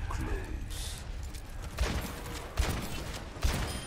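Weapons fire in Overwatch's Junkenstein Halloween mode, three spaced thumping shots punching through busy game noise while a player talks.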